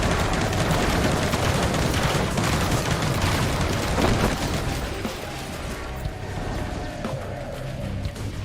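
Gatling gun enemies in Risk of Rain 2 keep up dense, continuous rapid fire amid booms and chaotic combat noise, loud throughout and easing slightly toward the end.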